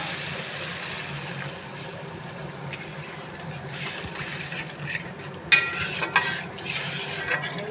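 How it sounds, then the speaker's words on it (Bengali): A hot pan for pomfret fish curry with mustard and poppy seed hisses faintly before water is poured in, bursting into a sudden sharper hiss and bubbling splash that keeps crackling afterward. "এখন দিয়ে দিব জল দিয়ে দিচ্ছি জল"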